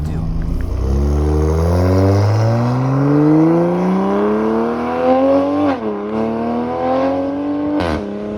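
A Toyota Supra time attack car, rebuilt from a crashed example, accelerating at part throttle: the engine note climbs steadily through the revs for several seconds, drops briefly as it shifts, then pulls again, heard from inside the car.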